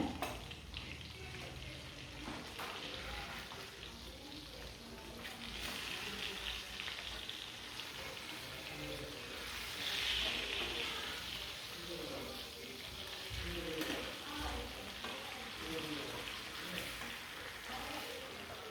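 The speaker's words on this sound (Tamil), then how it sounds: "எப்பவுமே ஸ்டவ்வை மீன் பொரிக்கும்போது சிம்மில் வைக்கணும்" Steady sizzling and crackling of black pomfret frying in hot oil on a simmering stove, continuous and close, with occasional stirring or scraping sounds and no talking.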